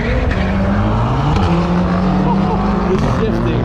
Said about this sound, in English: The classic Honda EK hatch walking around a Hellcat.